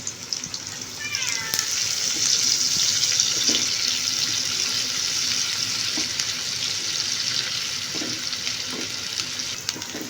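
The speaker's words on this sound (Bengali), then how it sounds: "তো ঝাল পেঁয়াজটাকে আমরা হালকা গোল্ডেন ব্রাউন করে ভেজে নিচ্ছি।" Spicy onions frying in oil until light golden brown for street-style egg noodles, a steady close sizzle and hiss running throughout with a few faint utensil clinks.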